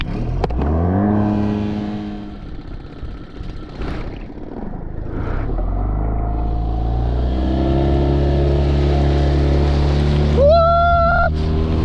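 A Mercury 9.9 HP outboard motor on an inflatable Air Skiff boat runs loud and steady throughout, its pitch climbing as it revs up, with a brief higher whine near the end.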